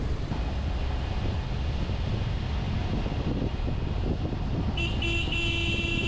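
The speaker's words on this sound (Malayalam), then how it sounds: "ഹോൺ അടിക്കാതെ ഒരു രക്ഷയില്ല കേട്ടോ. കാരണം അതുകൊണ്ടാണ് ഹോൺ അടിക്കുന്നത്." A car horn toots near the end while a vehicle drives through thick fog on a mountain road to Poombarai village, heard over steady engine rumble and wind noise, with no talk.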